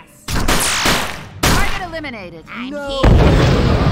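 Gunfire in the tactical video game UFO Afterlight: sharp shots and booms in quick bursts, mixed with sweeping game sound effects, while players talk over the action.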